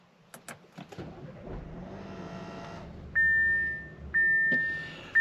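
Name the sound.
2021 Audi Q5 Sportback engine push-button start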